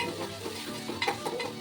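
Onion and tomato fry in a pan with a steady, moderate sizzle while a spoon stirs them, adding soft scraping strokes close by.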